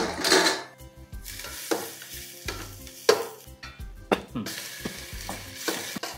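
Ginger garlic paste frying in a pot as the base for chicken soup, with loud crackling sizzle, repeated metal spoon scrapes and clinks against the pot in an uneven rhythm, close and prominent.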